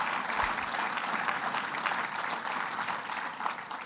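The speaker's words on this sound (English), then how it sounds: "Let's give him a round of applause for all his great work." An audience applauds Joe Morelli, the majority leader, at a Rochester sustainable development event, with steady, dense clapping that holds at an even level throughout.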